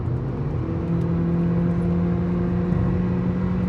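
A Volkswagen Polo 1.2 TSI with a DSG gearbox climbs uphill, heard from inside the cabin. The engine gives a steady, muted drone with a low tonal hum and no talking.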